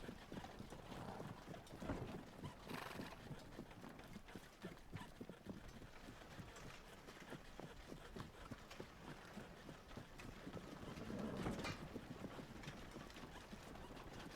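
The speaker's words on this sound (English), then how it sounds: "The horse begins to slow its pace." Horse hooves clip-clop steadily along a path, a continuous rhythmic patter under a dense, noisy ambience that swells slightly near the end, with no talking.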